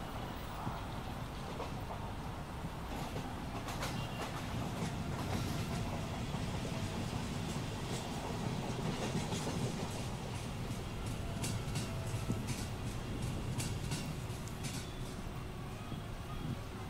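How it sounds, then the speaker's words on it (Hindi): A fast Mumbai local train bound for Dadar overtakes near Mahim station, a steady rumble with rhythmic clickety-clack of wheels over rail joints heard from an adjacent moving train, fairly faint. "दादर के लिए तेज लोकल जा रही है"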